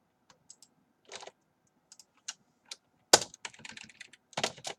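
Fingers tap on a computer keyboard while entering a Google Sheets formula, scattered single key clicks giving way to a quicker burst of close, crisp typing with short pauses between strokes.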